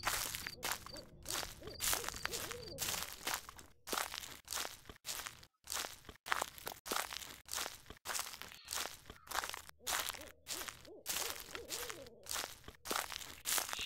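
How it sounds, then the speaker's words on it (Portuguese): Owls hoot repeatedly in the dark woods of the Slender horror game, over constant crunching footsteps through brush and leaves, with no talking. "Cheio de coruja."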